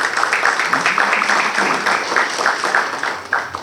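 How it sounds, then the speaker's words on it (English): An audience gives a sustained round of applause, dense continuous clapping that stays fairly even and fills the space for several seconds. "So you may give yourself and the country an applause on that,"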